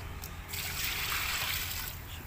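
Water poured into a bowl of raw chicken to wash it gives a close, steady splashing trickle, starting with a few drops and swelling into a continuous pour.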